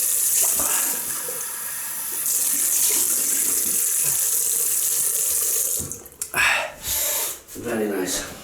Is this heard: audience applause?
no